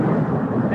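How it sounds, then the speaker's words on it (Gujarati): Thunder rumbles during a rainstorm, a brief, dense, continuous roar with no distinct crack, steady and fairly loud throughout. "અત્યારે કડાકા ભડાકા હાલે છે વરસાદના"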